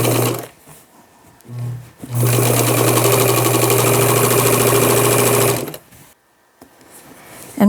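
A sewing machine back stitches an elastic casing on a dress: two short bursts, then a long steady whirring run of about three seconds, close and loud, before stopping.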